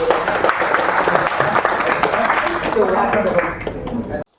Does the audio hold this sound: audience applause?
yes